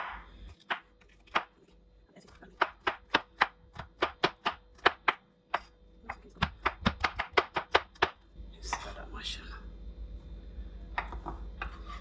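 A knife chops chicken sandwich ingredients on a cutting board in a run of sharp, evenly paced strikes, about two dozen close-up thuds that speed up in the middle, then give way to softer shuffling at the end.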